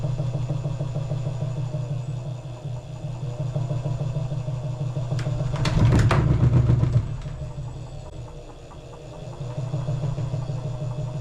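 A wood lathe hums steadily with a low motor drone, rising to a louder, rougher burst with rattling vibration as it spins an off-balance blank up to just under 400 rpm, then settles back to a steady hum.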